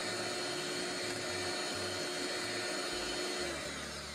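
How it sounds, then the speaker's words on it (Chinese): An electric egg beater whips egg whites with sugar at low speed, giving a constant close motor whine with a steady mechanical hum and slight rhythmic wobble from the beaters in the bowl. "加入15克白糖，用打蛋器打发，可以先用低速，"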